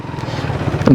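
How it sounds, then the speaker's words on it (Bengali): Motorcycle riding past near a ferry ghat at the Chandpur launch terminal, a brief close engine drone that swells louder toward the end. "বাইক নিয়ে যেহেতু আসছে"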